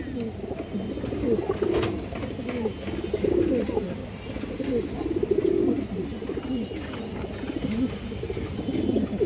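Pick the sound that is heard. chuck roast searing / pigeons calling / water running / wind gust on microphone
pigeons calling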